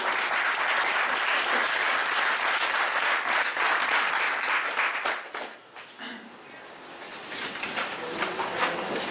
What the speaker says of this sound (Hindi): इनके लिए तो तालियां देनी चाहिए आपको।